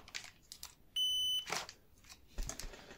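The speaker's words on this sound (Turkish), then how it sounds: "Buzzer konumunu aldığımızda ölçü aletimizi" A single steady multimeter continuity buzzer beep sounds for about half a second between soft handling noises and faint clicks, during testing of a dishwasher heating element.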